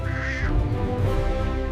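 A cartoon duck gives a short, close quack or two over a busy background of cartoon sound.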